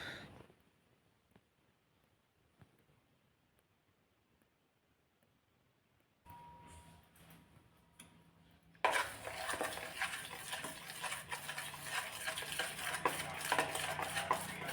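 Semolina batter with lemon juice is mixed in a bowl: near-silence at first, then soft scraping that turns into loud, continuous wet stirring and spoon-against-bowl rubbing in the last few seconds.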